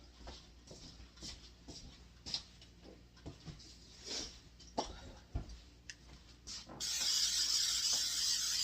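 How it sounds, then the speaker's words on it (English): Faint ticks and taps, then a steady hiss of cooking spray bursts out close by near the end and keeps going, sprayed onto a baking dish. "Let me spray my dish first."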